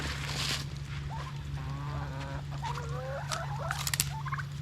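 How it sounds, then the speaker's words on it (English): Chickens and turkeys crowd around a feed of crab meat, their short clucks and warbling gobbles rising over a steady low farmyard hum, growing busier and louder toward the end. "Now I'm going to feed the chickens all this delicious crab meat."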